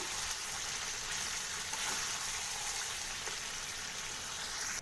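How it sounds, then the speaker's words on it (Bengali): Chicken posto frying in a pan, heard as a soft, even sizzle with faint stirring, quiet and continuous with no voices. "তো এটাকে ভালো করে নাড়িয়ে নেব"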